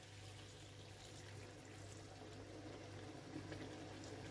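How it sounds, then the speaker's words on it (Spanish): A glass of wine is poured into a cooking pan for chicken chilindrón, giving a faint, steady liquid pour and trickle heard up close, with no talk over it. "Y ahora le echamos el vaso de vino, ¿vale?"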